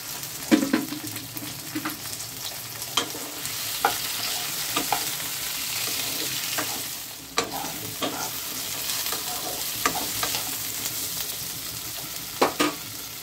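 Boiled potato pieces sizzle in a pan with bhindi, a continuous frying hiss broken by repeated scraping and stirring knocks of a spoon against the pan.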